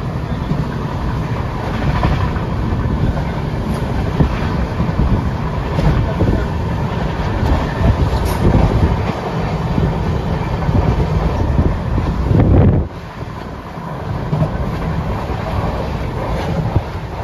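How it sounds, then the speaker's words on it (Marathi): A train rolling in along rails at a Konkan-bound station, a steady loud rumble with wind buffeting throughout, a brief heavier clatter near the end before the noise drops slightly and continues. "बघू आता आमची ट्रेन येते, त्या ट्रेनमध्ये जाऊ आम्ही."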